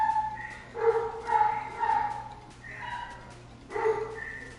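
Dogs in a home bark and yip in short bursts, mixed with whiny whimpers, repeating several times at moderate distance behind faint background noise.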